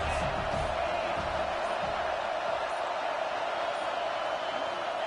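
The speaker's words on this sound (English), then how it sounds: "This crowd trying to make life miserable for this offense." A football stadium crowd roars in a steady, dense wash of distant noise that holds throughout, with a commentator's voice faintly over it.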